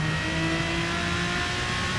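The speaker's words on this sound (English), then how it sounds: "Listen to the downshifts as I go through this hairpin." Aston Martin DBR9 race car engine in Gran Turismo Sport, downshifting into a hairpin; a loud, steady engine drone with shifting tones runs close and alone for two seconds.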